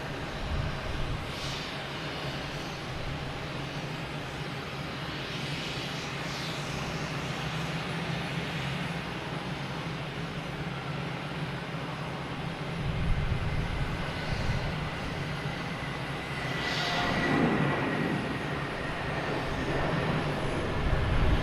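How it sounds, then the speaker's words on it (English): An Airbus A320 on flight 400 at Boston Logan Airport drones with a steady, continuous jet roar that holds at a constant level and swells slightly toward the end, heard from a distance with no voices. "A320, flight 400."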